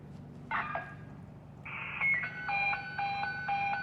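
A fire station dispatch alert in Quincy plays a short burst of tones, then a steady tone and a repeating pattern of pitched beeps, clear and moderately loud.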